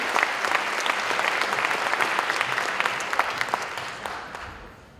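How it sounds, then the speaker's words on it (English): Audience applause for a leadership group on stage at a school district staff development gathering, a dense steady wash of clapping from a large crowd that holds strong before tapering off at the end. "could you just collectively give this group a round of applause for their leadership?"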